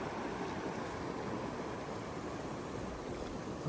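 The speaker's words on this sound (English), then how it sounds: "Redfish Lake Creek comes in." Redfish Lake Creek pours into the lake at its inlet. The water gives a steady, even rush of broadband flowing noise, close and constant, with no voices.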